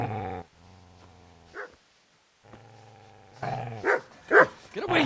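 A dog in the video game Kingdom Come Deliverance growls low in two long sustained rumbles separated by a short pause, then breaks into several loud, close barks.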